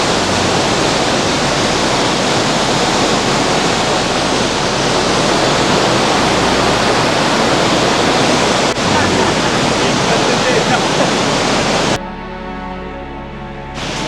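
Heavy rain and rushing water roar in a loud, steady broadband wash beside a rope bridge at a waterfall viewpoint, unbroken for most of the stretch before the sound drops abruptly into quieter tonal background near the end.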